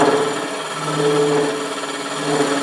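A wood lathe spins a pillar candlestick at around 1200 rpm while a tool takes very light cuts at the centre, a steady close hum with soft, continuous scraping and rubbing of the blade on wood.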